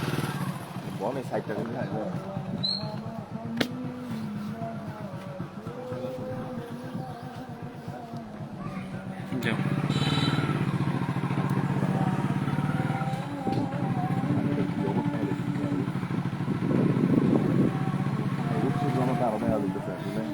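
A motorcycle rides along a flooded embankment at Alirchar, Muradnagar, Cumilla, its engine a continuous droning hum that grows louder partway through, while people talk over it.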